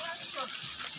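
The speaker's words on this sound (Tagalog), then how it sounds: "Lakas ang ulan." Heavy rain pours down during an outdoor family birthday gathering, a dense, steady hiss that fills the short moment at close range.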